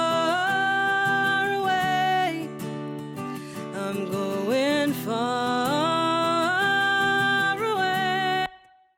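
A sung vocal melody with a spacious room reverb tail, sustained notes gliding between pitches, moderately loud, then cutting off near the end.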